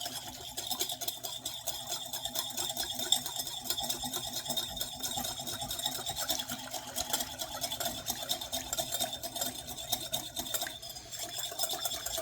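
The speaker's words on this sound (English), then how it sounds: "we want to whisk this up" Eggs mixed with dashi are whisked in a bowl, a faint, steady run of quick scraping and tapping strokes that continues without pause, with no voices.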